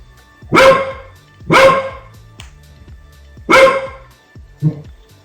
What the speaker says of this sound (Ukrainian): що ти гавкаєш там, а?